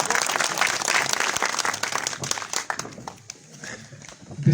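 A crowd in a hall claps in a dense, sustained ovation honoring retired Brigadier Lal Hussain Chaudhry; the loud, steady applause thins and tapers toward the end.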